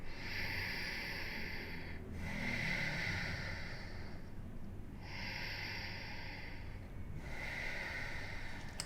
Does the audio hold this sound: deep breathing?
yes